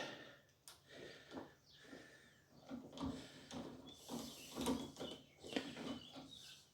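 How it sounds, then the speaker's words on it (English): A screw is driven back into a mortice lock, giving a quiet series of irregular metallic clicks and scraping turns close by, with short pauses between twists. "so you put your screw back into the hole, tighten it up"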